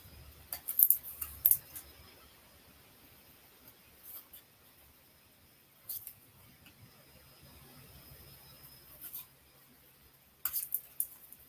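Scissors trim around a stamped paper card in short bursts of snipping with quiet gaps between them, close and faint, with no talking.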